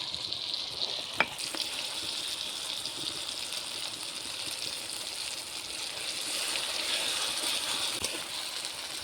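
Ginger-garlic paste fries in oil for a tengra fish curry, making a continuous close sizzle with one sharp click early on and no talking.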